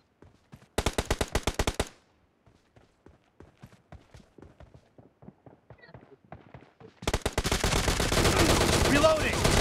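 Bursts of automatic gunfire in PUBG Mobile, one rapid volley early and a dense sustained barrage at the end, with quieter scattered shots and footsteps between.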